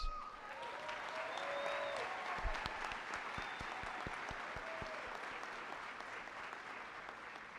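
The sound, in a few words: audience applause at a high school graduation ceremony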